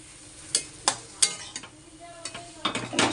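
Atta halwa, wheat flour cooked with white oil and ghee, stirred in a pan, giving a few distinct scraping strokes with soft crackle between them. Nearby and moderately loud, with no talking.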